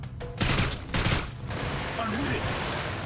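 Bursts of gunfire in the VR shooter Seeking Dawn crackle in quick volleys, with sharp shots early on, then a noisy background with faint electronic chirps.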